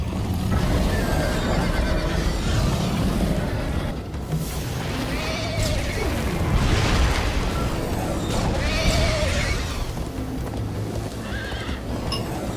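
Horse neighing and galloping in Minecraft: Story Mode, with repeated whinnies over a steady, loud clip-clop of hooves throughout a chase.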